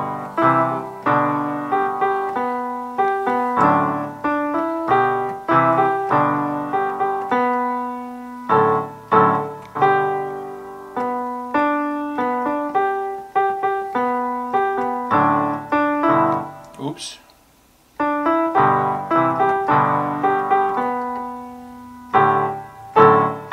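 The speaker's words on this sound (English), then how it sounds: "If you were on a piano, you would sound something like this." Solo piano passage recorded on an iPod Nano 5th generation, a steady run of sustained chords and melody lines with brief pauses, fairly close and moderately loud, no voices.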